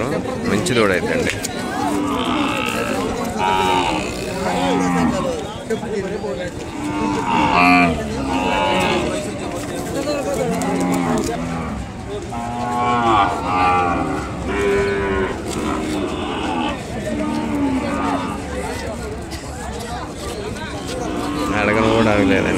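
Ongole cattle at a busy livestock market moo loudly and repeatedly, with long drawn-out calls rising above a constant background of crowd chatter and nearby voices talking.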